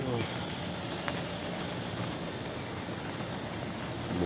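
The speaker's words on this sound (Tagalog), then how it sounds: "Umuulan na naman, bubago na naman umuulan mga kalakay." Steady rain falls while workers walk home from a shipyard at day's end, a dense, even hiss of drops on surfaces that holds for the whole stretch, moderately loud and close.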